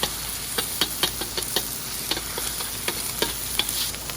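Eggs stir-fry in a hot wok for Thai drunken noodles, a steady hiss and sizzle broken by sharp, irregular knocks of a spatula scraping and tossing against the metal.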